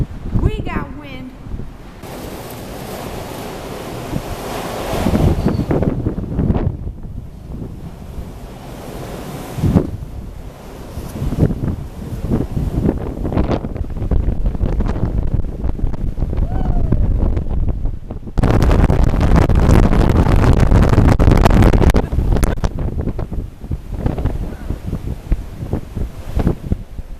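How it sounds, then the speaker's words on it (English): Strong wind buffets the microphone at a ferry harbor on a cold day, with loud gusty roaring bursts that rise and fall, the heaviest near the end, over a rushing wash of surf. "It's windy. We got wind."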